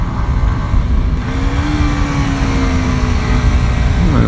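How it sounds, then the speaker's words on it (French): A Kawasaki 125 motorcycle engine revs hard at high rpm, a loud, steady drone with a rising pitch held close throughout. "le moteur commence à avoir de la niaque à très haut régime"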